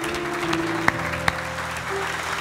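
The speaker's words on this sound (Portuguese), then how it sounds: "Aplauda ao Senhor pela sua palavra." A church congregation applauds during a sermon, a dense even rattle of clapping from many people with a couple of sharp louder claps near the front, under a sustained organ-like tone, no speech.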